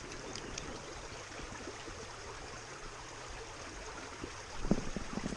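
Steady broadband rush of a flowing stream current over a wild trout run, constant and fairly near, with a slightly louder splashing burst near the end; no voices.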